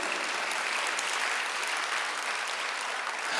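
A church congregation applauds together during a Sunday service, a dense, even wash of clapping that holds steady from start to finish at moderate volume.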